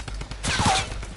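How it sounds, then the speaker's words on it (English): A hunting rifle fires in an online battle-royale shooter, with a loud burst of gunfire and a rolling report in the middle of a short span of steady game noise. "I hit that guy there. With my hunting rifle."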